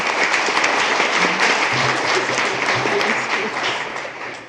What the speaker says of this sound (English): Round of applause for our gold schools.